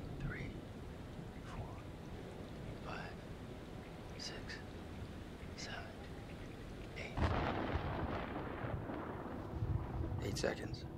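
Deep thunder from a distant storm in the video game Man of Medan rumbles low beneath eerie game sounds, swelling louder near the end as the storm rolls in.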